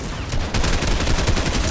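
Rapid pistol fire in the Fortnite video game, a dense loud stream of quick overlapping gunshots that grows heavier after the first half second and keeps going with no break.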